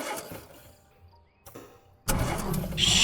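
A car with a dead battery failing to start, a short sputtering mechanical whir and click after a quiet stretch, then a sudden loud burst of broadband noise with no talking.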